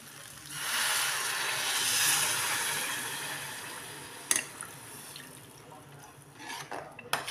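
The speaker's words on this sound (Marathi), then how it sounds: "आता आपण पाणी टाकून देऊ." Water is poured into roasted rice in a pot for masale bhat, a steady hissing splash for a few seconds, then fading into a few sharp clinks of utensils against the pan.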